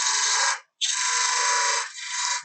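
Gouge cutting a spinning pizza cutter handle on a wood lathe, giving a bright, hissing shear in two long passes separated by a brief break, close and loud.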